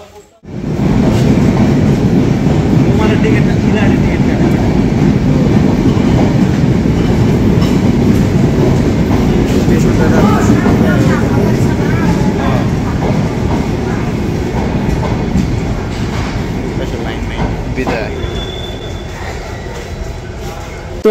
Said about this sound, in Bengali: চিলাহাটি স্টেশনে এসে আমরা ট্রেনকে বিদায় জানিয়ে দিলাম।